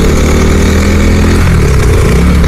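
A KTM RC 390 motorcycle, BS3 model, idling close by, its single-cylinder engine giving a loud, steady, throbbing exhaust note with a slight shift in pitch partway through.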